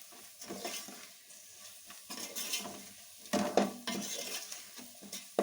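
Fried rice with masala being stirred in a pan, a spoon scraping and clinking against metal in irregular bursts over a soft sizzle, close and fairly quiet.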